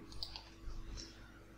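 A computer mouse gives a couple of soft, quick clicks close by, faint against a low background hum.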